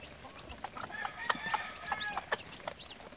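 A mother gamefowl hen clucks among her newly hatched chicks at their first feeding, in a run of short, fairly faint calls with higher peeps mixed in.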